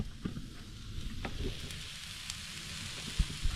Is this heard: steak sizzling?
yes